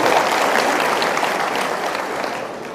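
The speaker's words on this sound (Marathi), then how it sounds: "सगळ्यांनी जोरदार टाळ्या वाजवून जयाभाऊंचं अभिनंदन" Audience at a political gathering in Phaltan applauding minister Jayakumar Gore, a dense, loud wash of clapping that slowly tapers toward the end.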